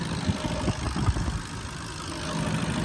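A Skoda Octavia A7 with a 2.0 diesel engine and automatic gearbox idles in a steady low rumble, with a few soft knocks in the first half and no voices.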